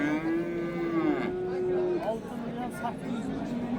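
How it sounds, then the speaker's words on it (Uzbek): A cow at an Urgut livestock bazaar in Samarkand gives a long, drawn-out moo lasting nearly two seconds, followed by fainter lowing, with people talking and crowd murmur throughout. "Mana bu tomonda sigir."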